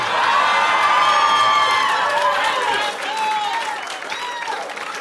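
A large crowd at a Kentucky midterm election event cheers, whoops and shouts loudly for several seconds, then the noise eases slightly while cheering continues.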